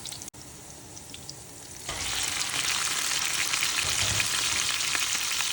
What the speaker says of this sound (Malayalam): വെളുത്തുള്ളി ഒന്ന് ചെറുതായി വഴണ്ട് വരുന്ന ടൈമിൽ നമ്മൾ കോരി വെച്ചിരിക്കുന്ന ബ്രോക്കോളി ഇട്ട് കൊടുക്കുക